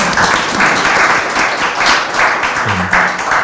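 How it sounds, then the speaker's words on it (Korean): An audience at a Christian bioethics lecture applauds the speaker, a full, steady round of clapping throughout, with a brief low voice surfacing near the end. "다시 한번 우리 박수할까요?"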